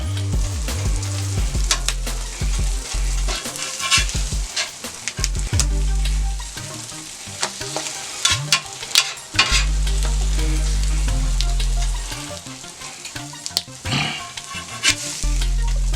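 A ham and cheese omelette fries loudly on a steel flat top grill, a constant close sizzle broken by scraping spatula strokes and clanks as it is worked and flipped, no talking.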